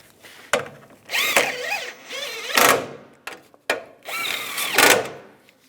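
A power tool runs bolts back in on a 2002-2009 Chevy Trailblazer during a hood release cable replacement, with several whirring bursts that rise and fall in pitch, separated by brief pauses and sharp clicks, close and fairly loud.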